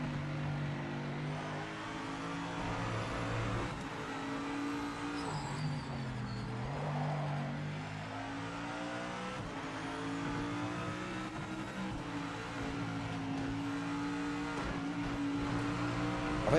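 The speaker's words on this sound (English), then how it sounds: "it's driving like a GT3 should now" A GT3 race car in the Project Motor Racing sim laps the newer Spa circuit, its engine droning steadily with rising and falling revs through gear changes, close and sustained throughout.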